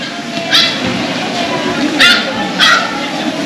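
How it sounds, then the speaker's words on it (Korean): A small dog yips three times in short, high barks amid a busy, murmuring crowd. "강아지 소리가 들리는데?"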